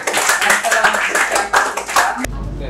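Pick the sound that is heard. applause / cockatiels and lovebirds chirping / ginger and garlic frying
applause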